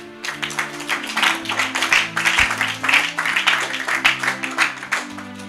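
A church congregation applauds to acclaim the Lord, a steady wash of clapping rising and falling for several seconds over sustained held keyboard chords.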